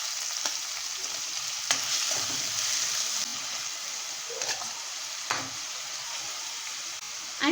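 Chopped onion sizzles and crackles steadily in hot oil for street-style anda ghotala, with occasional clinks and scrapes of a stirring spoon against the pan.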